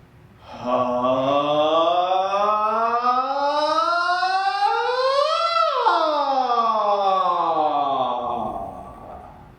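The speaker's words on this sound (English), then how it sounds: "We are going to run from the lowest point of our voice to the highest point of our" A single voice glides smoothly upward from a low hum to a high pitch, then slides back down, sustained and clear with no talking.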